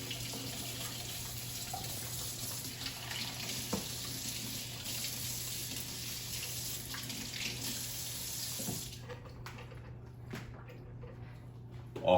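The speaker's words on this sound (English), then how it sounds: "Rinsing off the strings here." Tap water runs steadily from a kitchen faucet while sweet potato strings are rinsed off, a constant close rushing stream that cuts off near the end, leaving a quieter room.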